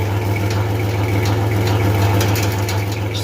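A Chevrolet S10 truck engine runs at a steady idle, with a low constant drone and a loose, buzzy rattle from the exhaust riding over it throughout.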